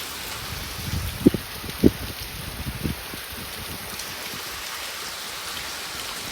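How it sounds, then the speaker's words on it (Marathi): Heavy rain pours steadily in a constant broadband hiss with wind, a few louder knocks and drips standing out near the start, and no one speaking. "काय जोरदार पाऊस पडत आहे"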